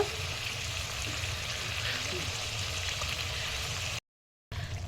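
Marinated meat sizzling and frying steadily in a pan as it is sautéed for kosha, a continuous close crackling hiss without speech before cutting out briefly.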